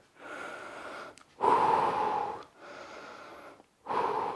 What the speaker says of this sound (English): We're going to focus on our breathing.